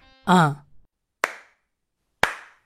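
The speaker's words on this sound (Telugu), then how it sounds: "100 మందిలో అన్నా మనం స్పెషల్గా గుర్తుపట్టాలంటే ఈ చప్పట్ల సౌండ్తోనే" A short vocal sound is followed by two sharp, distinctive hand claps spaced about a second apart, each crisp and close with a brief ringing tail in an otherwise quiet space.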